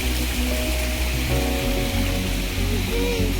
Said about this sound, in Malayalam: ചെറിയൊരു വെള്ളച്ചാട്ടമുണ്ട്